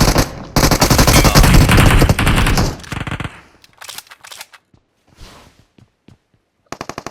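Loud sustained machine-gun fire in the BGMI battle royale video game on the Livik map, a dense burst for about three seconds, then scattered single shots and short volleys with gaps, a final burst at the end.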